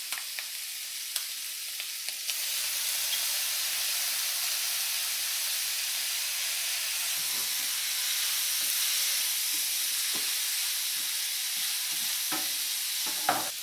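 Squid stir-frying in a hot pan gives a loud, continuous sizzle and hiss, broken by scattered clicks and scrapes of the spatula, with no talking.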